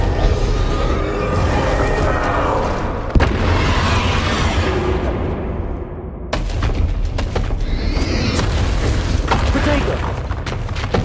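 Bombarda blasting spell from Hogwarts Legacy, loud booming bursts and crashing impacts, one sharp blast near the middle followed by a sudden cutoff and a fresh burst of rumbling destruction, with a voice calling out spells.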